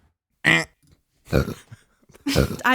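Three loud, deep burps come close to the microphone, separated by short silences, with the last one longer and drawn out.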